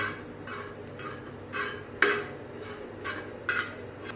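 A spoon scrapes and knocks through chicken keema with red chili in a pan. The strokes come in a roughly regular rhythm of soft scrapes and clacks, close and fairly quiet, with a faint sizzle beneath and no talking.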